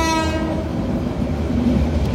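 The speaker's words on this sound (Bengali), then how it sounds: "আমাদের ট্রেনটি এখন আমিরগঞ্জ রেলওয়ে স্টেশন প্রবেশ করলো" Titas Commuter train entering Amirganj railway station, a loud rumbling, clattering rail roar heard close with a brief horn-like tonal blast at the very start, no voices.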